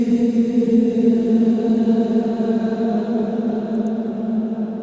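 Sustained, droning synth moans, heard both dry and reverb-processed, hold a steady low pitch with a hazy, reverberant wash, continuous and fairly loud throughout with no talking.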